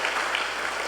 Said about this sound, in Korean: 박수 한번 일어섰을 때 환영해 주시기 바랍니다